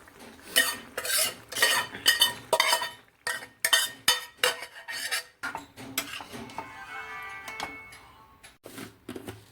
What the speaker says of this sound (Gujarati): પછી આપણે બધી શાકભાજી એડ કરી દઈએ ફટાફટ અને મિક્સ કરી દઈએ